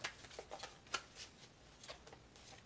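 A deck of Romance Angel Oracle cards being shuffled by hand, soft riffling and flicking in a few short quiet bursts with brief pauses, no voice.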